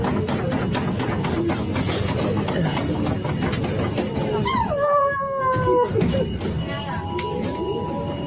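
A woman on a subway imitates a dog, yipping, whimpering and drawing out howls over a loud, steady rumble of the train, with a rising and falling howl near the middle.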